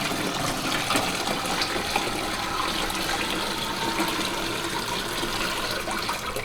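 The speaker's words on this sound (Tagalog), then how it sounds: "lagyan natin ng tubig yung wash na section niya" Water gushes steadily into the wash section of a Scotch Brite hands-free mop bucket, a continuous close splashing fill with no pauses and no talk.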